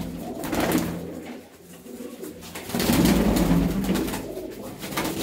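A prize-winning racing pigeon from Ludhiana coos repeatedly, its low, throaty rolling calls close and fairly loud, swelling in a second longer burst of cooing.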